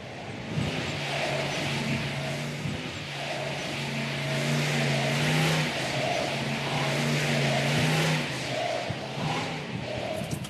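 A heavy muscle car works through a slalom course, its engine droning and rising and falling in pitch as it revs between cones, loud and steady for the whole stretch with a crowd-like wash beneath.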